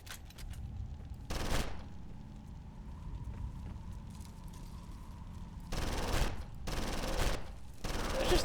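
Gunfire in Condemned: Criminal Origins, a loud burst of rapid shots followed after a quiet stretch by several longer bursts close together, over a low droning ambience.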